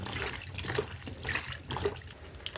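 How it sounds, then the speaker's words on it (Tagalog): Tap water runs steadily into a kitchen sink while eggplant is washed, a close splashing rush with a few soft knocks of handling. "next hugasan natin yung talong"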